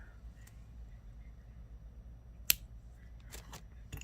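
Beading wire for a necklace snipped once with cutters, a single sharp close click in a quiet room, followed by a couple of soft handling clicks.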